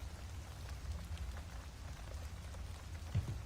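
A rain sound effect plays quietly in the background indoors, a soft continuous patter of raindrops with a faint low rumble, steady and distant-sounding, no speech.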